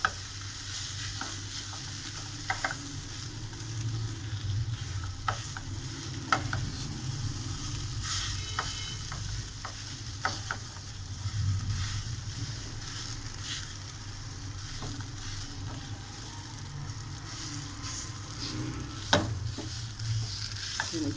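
Potatoes with spices sautéing and being stirred in an oiled pan, a continuous low sizzle broken by frequent close spatula scrapes and taps, no talking.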